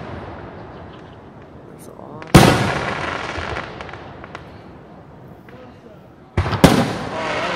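July 4th fireworks in Ridgewood: two sharp, loud booms a few seconds apart, each followed by a crackling decay, with faint distant pops and people talking in between.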